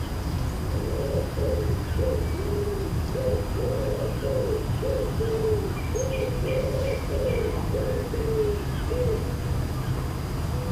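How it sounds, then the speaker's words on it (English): A wood pigeon calls from inside tree foliage, a series of soft rhythmic coos in repeated phrases, fairly near, over a steady outdoor background hum. "The pigeon begins calling from inside the foliage."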